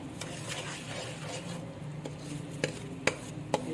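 Semolina cooking with cardamom in a pan for suji halwa is stirred with a spoon, giving a soft continuous scraping broken by a few sharp clinks against the metal near the end.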